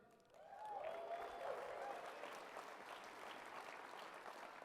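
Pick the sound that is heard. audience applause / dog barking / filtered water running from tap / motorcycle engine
audience applause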